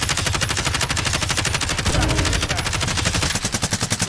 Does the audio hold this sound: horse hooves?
no